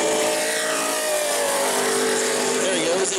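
A pro late model race car on a qualifying lap at New Smyrna, its engine a steady loud roar with rising harmonic pitch, heard under an announcer's continuous commentary.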